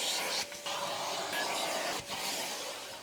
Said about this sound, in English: Now you're gonna do a final vacuum and then the front seats.